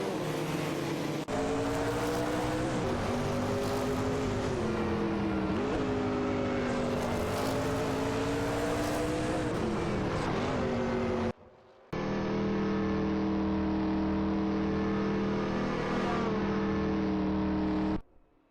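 Video game race cars howl past, loud revving engines sweeping up and down in pitch with a brief cut midway, then a steadier drone, no talking.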